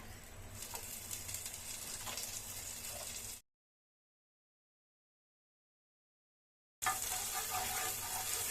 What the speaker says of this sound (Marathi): पॅन तापलेला आहे, गॅसची फ्लेम मीडियम करायची। बटर क्यूब टाकूया।